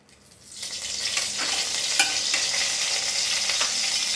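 Whole spices for a mutton pepper fry crackle and sizzle in hot oil in a pan, the frying rising quickly from quiet into a dense, close hiss broken by occasional sharp pops and stirring scrapes.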